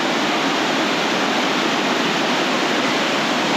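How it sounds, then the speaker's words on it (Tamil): The third tier of Elephant Falls in Meghalaya roars as a loud, continuous, dense rush of falling water, steady throughout with no voices. "இதுதான் தேர்ட் ஃபால்ஸ்"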